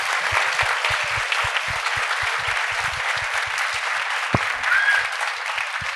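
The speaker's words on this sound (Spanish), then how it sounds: "escuchamos el aplauso de la audiencia" An audience at a second-anniversary show applauds steadily, a dense patter of clapping from many hands that carries on at an even level, with a brief louder clap partway through.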